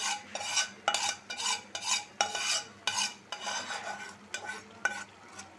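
A spoon stirs beaten egg into a simmering egg and potato curry, a rhythmic series of scraping strokes against the pan over a faint sizzle, close and fairly loud, with no talking.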